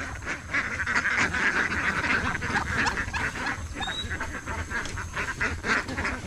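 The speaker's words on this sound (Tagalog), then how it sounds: "papakawalan na natin itong ating mga itik" Farm ducks let out of their pen in a garden, a busy flock quacking and honking continuously at close range amid rustling outdoor noise.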